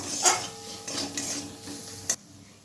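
A spoon stirs and scrapes against a pan as spices are mixed with ground tomato paste for a cabbage curry, giving a few soft, separate scrapes and a sharp clink near the end.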